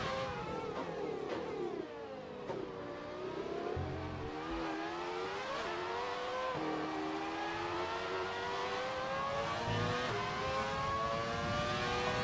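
Formula One race cars in a 1998 racing video game scream at high revs, the engine pitch climbing and dropping through gear changes and passes, steady and loud throughout with no talk.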